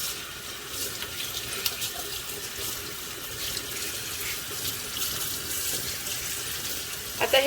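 Tap water runs steadily into a kitchen sink while a crab is rinsed clean for a Malvani crab masala, with faint splashes and clatter over the continuous flow and a brief knock at the end.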